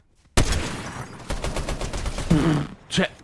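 Rapid bursts of gunshots in Fortnite, a quick volley of close, sharp cracks over roughly three seconds with a brief pause before a final shot.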